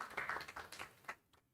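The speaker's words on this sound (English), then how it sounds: "So another round of applause." Brief audience applause at a youth research dissemination event in Kampala: a burst of scattered hand claps that thins out and fades to near silence within about a second and a half.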